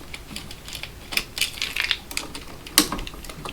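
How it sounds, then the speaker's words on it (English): A screwdriver backs out the ground-wire screw on a light switch being swapped for a smart switch, giving a close, irregular run of small sharp metallic clicks and ticks, with no talking. "And then I will unscrew the ground wire."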